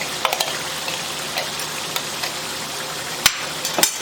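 An onion, ginger and garlic paste fries in a pan with a steady close sizzle, while a utensil stirs it and scrapes or taps against the pan in scattered sharp clicks.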